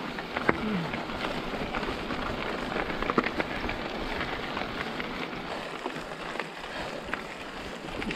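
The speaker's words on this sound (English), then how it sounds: "I feel a drop of rain there, Dave." Steady rain patters on an open hillside high in the Yorkshire Dales during a mountain bike ride near Fremington Edge, a continuous soft hiss of drops with faint occasional taps, moderately quiet and with no talk.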